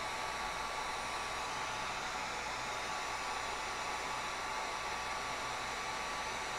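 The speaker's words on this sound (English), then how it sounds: "the heat gun's going to throw out a pretty good bit of heat" A heat gun blows steadily while heating a pipe for a homemade shop vac dust collection adapter, a constant fan-driven whoosh with a faint tonal whine, heard alone at a moderate level.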